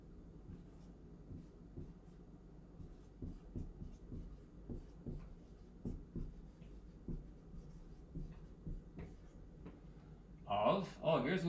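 A marker sketches a graph on a board during a calculus lesson on logarithmic functions, giving a steady run of faint rhythmic squeaks and strokes, with a brief louder rustle at the end.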